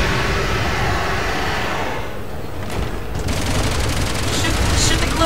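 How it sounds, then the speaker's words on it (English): Machine gun fire from the video game Resident Evil 6 rattles in dense, continuous bursts. It sounds loud and close, blended with game noise and rumble, with a brief dip in intensity midway. "Machine gun."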